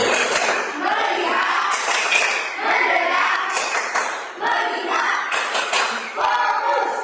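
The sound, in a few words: class clapping a 'tepuk fokus' rhythm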